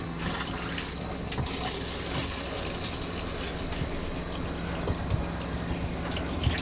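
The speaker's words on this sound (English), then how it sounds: "Oh, just running water." Water from a new shower head runs steadily, a constant hissing spray with faint dripping and splashing, continuing evenly without pause.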